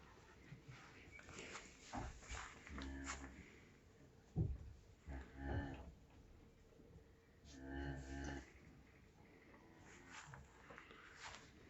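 Cows in a barn at evening give a few drawn-out, low moos, two clear calls standing out around the middle and near the end over a steady background hum and rustle.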